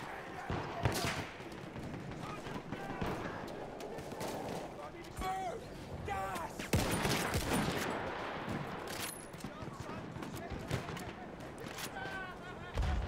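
Rifle fire in the Battlefield 1 video game as a scout shoots and reloads a five-round clip: sharp repeated shots and clattering mechanical clicks amid a busy battlefield with distant gunfire and explosions, and a voice talking over it.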